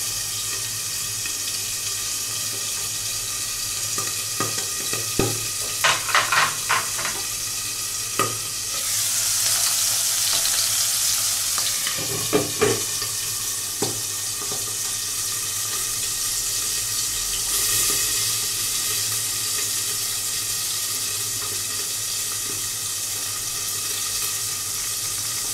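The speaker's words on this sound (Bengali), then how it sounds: "মাছটা ভাজা হয়ে গেছে, একটু একটু একটু একটু করে নাড়িয়ে দেবো।" Tilapia fries in hot oil with a steady, loud sizzle. A few clattering stirring knocks cut through, a brief water-like rush comes midway, and no one speaks.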